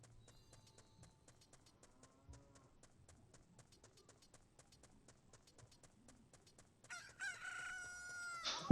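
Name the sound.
rooster crowing for nightfall in Ocarina of Time video game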